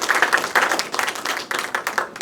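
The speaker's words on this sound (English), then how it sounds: "Round of applause for you, maybe again." A brief round of applause at a presentation, a small group clapping in several uneven bursts, close and moderately loud.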